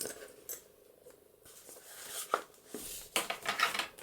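Thread ends snipped with scissors while binding the signatures of a vintage florals journal, a few quiet crisp cuts and light rustles at close range, with no talking.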